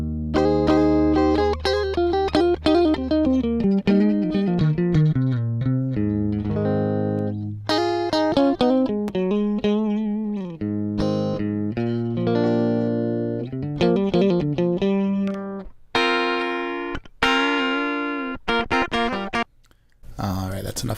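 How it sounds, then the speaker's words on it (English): A Stratocaster electric guitar is played clean and dry with no reverb, picking a melodic line of single notes and chords with clear attacks and ringing sustain, up close and continuous. "this is just the pure dry direct signal that's recorded from my Strat."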